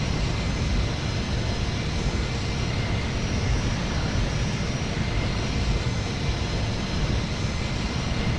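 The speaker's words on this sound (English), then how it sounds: "The plane has landed." C-17 Globemaster III engines in Microsoft Flight Simulator after landing, a steady, broad jet roar that stays loud and constant throughout with no breaks.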